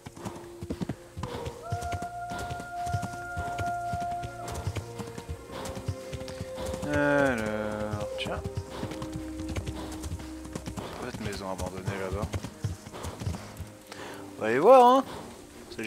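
Rhythmic clip-clop of horse hooves trotting in the video game Kingdom Come: Deliverance, steady and close, with a brief whinny near the end and music-like tones in the background.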